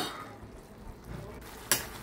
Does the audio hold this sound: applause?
no